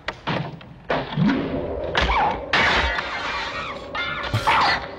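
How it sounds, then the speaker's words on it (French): A door is smashed in during the 1985 film Phenomena: a series of heavy thuds and crashing impacts with splintering, breaking debris, loud and close, repeated several times over a few seconds. "Elle a défoncé la porte."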